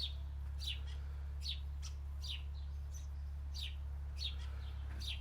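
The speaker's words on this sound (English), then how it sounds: "I hope all these little chirps pick up on the microphone that she makes." A pet chicken named Gravy gives a series of short, high chirps, about a dozen spaced irregularly over a faint, steady low hum in a quiet room.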